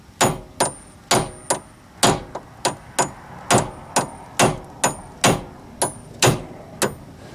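A hammer hits a steering rack part over and over to knock it loose during steering rack removal, giving a steady series of about a dozen loud, sharp metallic strikes with brief ringing after each.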